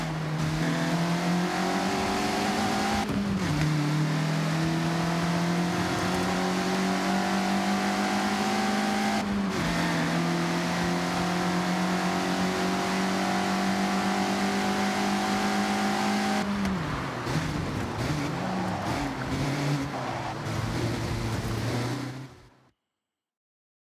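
A Mazda MX-5 in Forza Horizon revs hard and steadily for over twenty seconds, its engine note climbing and dropping with gear changes during sideways driving through corners, loud and close until it cuts off abruptly.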